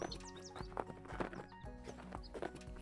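Horse hooves clip-clopping on an arena surface during dressage riding, with a steady rhythmic footfall pattern close by; a horse whinnies faintly and background noise persists throughout.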